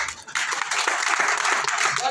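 A crowd applauds continuously, a dense wash of clapping throughout, with a voice briefly audible over it.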